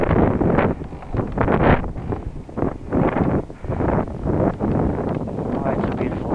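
Wind buffets the microphone during a winter bicycle ride along Toronto's waterfront, coming in loud, uneven gusts and rumbling bursts that rise and fall repeatedly.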